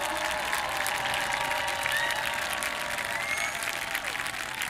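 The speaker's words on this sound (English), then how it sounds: "Could we just get one more giant round of applause for these students for the hard work they put in?" Big, sustained round of applause from a concert audience honoring San Jose State's Spartan Marching Band students, a dense steady wash of many hands clapping with faint cheering mixed in.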